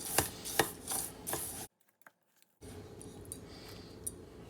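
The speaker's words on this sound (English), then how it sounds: "And stir it up." A spoon stirs melted butter into crushed Oreo cookie crumbs for a pie crust, making several sharp, gritty scraping strokes up close, then a brief silence before softer, duller stirring resumes.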